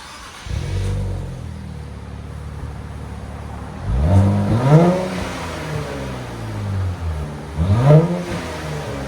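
Stock exhaust of a 2023 Nissan Z, before an X-pipe delete, idling in a low steady rumble and then revving sharply twice, each rev rising and falling back to idle, loud and close.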